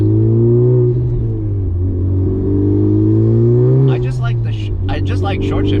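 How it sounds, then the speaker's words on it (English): A Honda Civic Type R FK8 accelerates hard with a loud, steady engine drone rising in pitch from inside the cabin, while people talk over it throughout. "I'm just like just flooring it just to hear the turbo noises"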